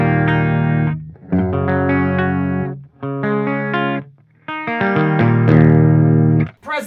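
Heavily distorted high-gain electric guitar through an EVH 5150 Iconic amp plays loud sustained power chords in several bursts separated by short pauses, with ringing harmonics and a trailing decay, no voices.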